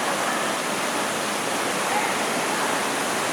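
Sta. Maria falls pours down as a steady, loud broadband rush of water, a continuous roar from start to end with no breaks.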